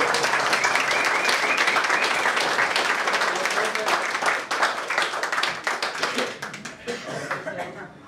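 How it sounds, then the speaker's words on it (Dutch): An audience applauds at a Dutch book presentation when the first copy is handed over, a full dense round of clapping that thins into scattered individual claps near the end, with a little voice and chuckling mixed in. "Weer applaus."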